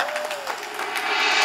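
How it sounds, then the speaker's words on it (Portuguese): A small crowd at a Valentine's Day proposal gathering in São Paulo's north zone claps for a friend named Renata, a burst of dense clapping that swells louder toward the end, close by and without talk. "Palmas pra Renata"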